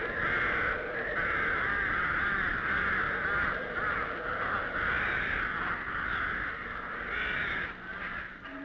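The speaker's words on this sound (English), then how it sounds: "the only music heard now is that of the new occupants, the birds" Crows cawing over a ruined, deserted Irish village, harsh calls repeating steadily and fairly loud through the whole stretch with no other sound.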